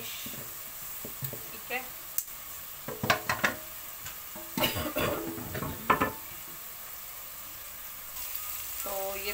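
Masala fries and sizzles in a pan on a home kitchen stove, with bursts of crackling and stirring scrapes, fairly quiet, while someone talks briefly.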